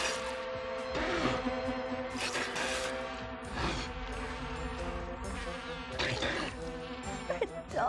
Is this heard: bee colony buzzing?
yes